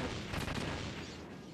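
Dense, roaring explosions from Stinger missiles striking a Hind D helicopter in the Metal Gear Solid video game, a loud continuous burst of booming blasts that slowly tapers off.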